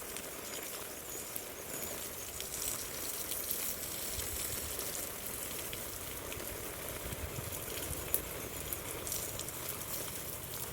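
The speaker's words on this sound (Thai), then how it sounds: "มันน้ำตกนะ" Steady rushing water from a small waterfall, a constant broadband wash that keeps an even level throughout with no voices.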